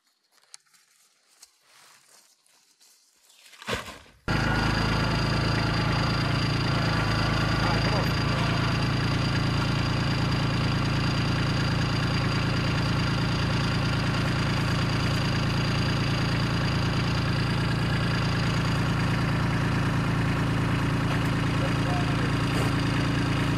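Tractor engine idling on a farm where a pallet attachment replaces the bucket, a loud, steady, continuous rumble that cuts in abruptly after a few quiet seconds and runs unbroken to the end.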